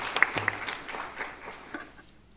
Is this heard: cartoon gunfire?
no